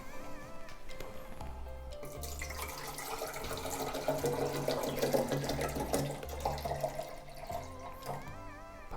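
Bottled water is poured into the plastic tank of a Nespresso Citiz coffee machine, a soft steady trickle and splash lasting several seconds at close range, with faint background hum.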